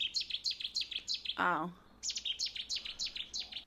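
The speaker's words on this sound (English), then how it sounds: "Bird number 2 is Setti's warbler. They have a sharp pick, a lower chup, and a dry rattle comparable to that of a sparrow." Cetti's warbler calls: a rapid, even series of sharp, high notes, broken briefly by a short human voice, then resuming at the same quick pace.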